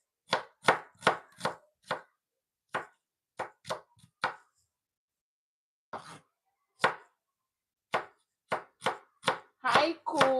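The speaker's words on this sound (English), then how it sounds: "So I'm just going to be slicing these onions." A knife slices through onions on a cutting board in a series of crisp, close, rhythmic chops, running in quick bursts with short pauses, ending with a faster flurry.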